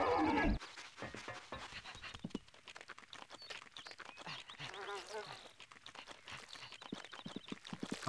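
Light hoof clip-clops patter in an uneven trot in the video game Conker's Bad Fur Day, mixed with soft panting and scattered game-like sounds at moderate volume.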